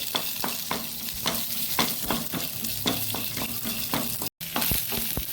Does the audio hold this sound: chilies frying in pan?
yes